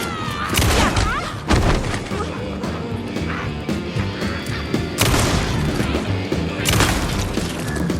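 Gunfire in the video game Alan Wake 2, with loud booming shots and heavy impacts breaking out repeatedly across a dense, noisy fight; a few spoken words can be heard under the racket.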